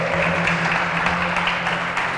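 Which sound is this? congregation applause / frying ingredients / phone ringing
congregation applause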